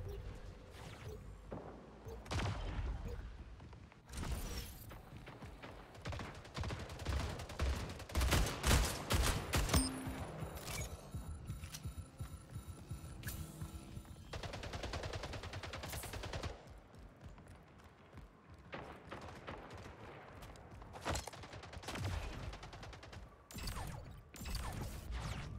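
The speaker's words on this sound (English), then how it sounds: "Battle rifle." Battle rifle gunfire in the video game Splitgate, rapid bursts of loud shots repeating across the whole stretch, dense and close with brief lulls between volleys and no talking.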